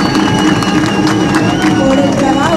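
Crowd at a Juventud PRD political rally in Salcedo breaks into loud, sustained applause and cheering, a dense continuous roar with voices mixed in close by throughout.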